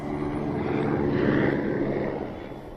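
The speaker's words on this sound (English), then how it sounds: "Helicopter." A helicopter in the animated film Madagascar passes overhead, a loud rumbling whir that swells and then fades over a few seconds.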